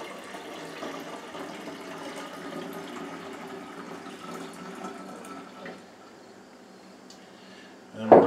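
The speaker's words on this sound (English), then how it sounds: "And then I'll water it down with some water." Water poured into a spray mix of apple cider vinegar for smoked meat, a steady close splashing flow for about six seconds that then quiets, ending in a short louder knock.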